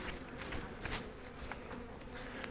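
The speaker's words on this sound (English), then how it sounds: "bees on your veil with their butt jammed in the screen, buzzing, trying to sting your face" Angry honey bees at a weak hive buzz steadily and faintly close by, a continuous insect drone with small surges, with no talking.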